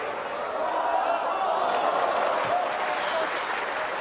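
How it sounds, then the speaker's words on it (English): Steady applause from a large snooker crowd at the Shanghai Masters fills the space, broad and continuous, with faint voices mixed underneath. "Crowd getting involved early."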